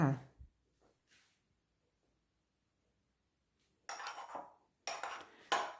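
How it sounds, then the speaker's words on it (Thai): Cake roll batter is stirred in a bowl, with sharp clinks and scraping of a utensil against the bowl coming in short bursts between quiet gaps. "คนผสมให้เข้ากันค่ะ"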